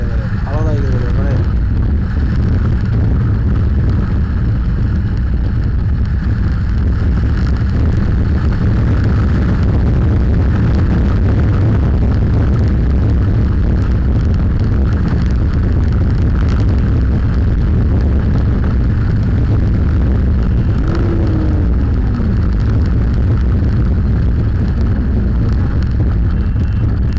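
Motorcycle ridden at speed during a heavy monsoon ride near Pokriatar village, with a loud continuous engine drone and roaring wind rush throughout. Faint speech sits in the background.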